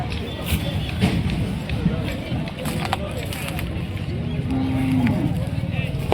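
Bulls low and moo amid a busy cattle market crowd at Akki Aluru, with a murmur of voices and shuffling all around.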